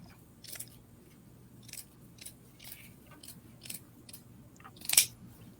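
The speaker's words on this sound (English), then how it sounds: "I'm just going to cut straight through the middle from one corner to the next." Scissors snipping through poly burlap mesh for a pine cone wreath, a run of faint, separate crisp cuts spaced about a second apart, the last one sharper and louder, with no talk.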